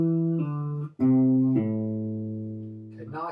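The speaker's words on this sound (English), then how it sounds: "We're going to pluck the high note and pull off to the lower note." Electric or acoustic guitar notes played with pull-offs through a minor pentatonic pattern, sustained plucked tones stepping down in pitch one after another, clear and close with no talking.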